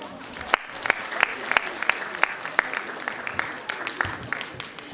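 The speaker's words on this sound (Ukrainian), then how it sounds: "Оплески." Audience at a master's graduation ceremony applauds, dense continuous clapping with sharp individual claps standing out in a loose rhythm, fairly distant in a large hall, with faint voices mixed in.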